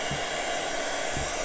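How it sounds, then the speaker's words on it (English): A small new hair dryer blows steadily and loudly throughout, a continuous broadband whoosh with no voices. "With my new little dryer"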